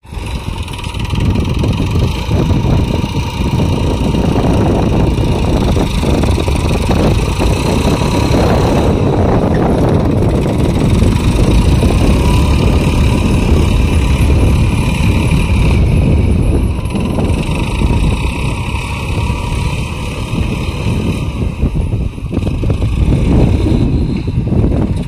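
Tractor engine idling steadily in a farm field while manure trailers are unloaded, a continuous loud mechanical rumble with a broad mid-frequency hum for the whole stretch, no talking.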